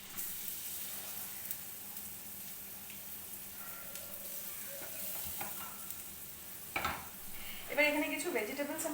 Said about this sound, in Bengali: বাটার দিলাম, বাটারের মধ্যে আমি দিয়ে দিলাম ক্রাশ করা রসুনটা